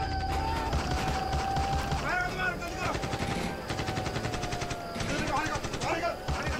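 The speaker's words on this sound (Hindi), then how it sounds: "फायरिंग शुरू हो गई।" Gunfire erupts during para special forces commando training, dense rapid bursts of shots at close range filling the clip without pause.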